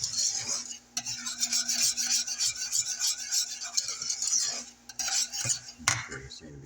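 A spoon scrapes and clinks steadily around a bowl while blueberry bread pudding mixture is stirred, a dense rhythmic rasping that pauses briefly near the end.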